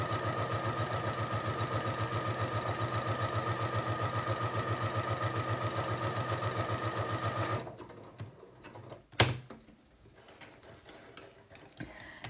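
A sewing machine running a triple stitch to join butted felt pieces hums in a fast, even mechanical rhythm for about eight seconds, then stops, followed by a sharp clunk and quiet handling.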